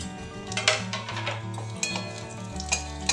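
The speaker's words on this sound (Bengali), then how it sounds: "এবার একটা ফোড়ন দেব, 2টো শুকনো লঙ্কা, তেজপাতা আর জিরে দিয়ে দিলাম।" Dry red chillies, bay leaf and cumin frying in hot mustard oil, a steady low sizzle with scattered crackles and light scraping of a utensil against the pan, close and fairly quiet.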